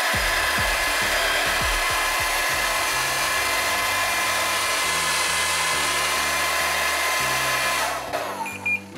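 A Xiaomi Mijia Negative Ion hair dryer (CMJ01LX3) blows steadily at second speed, a loud close whooshing airflow with fluctuating motor hum, then switches off near the end.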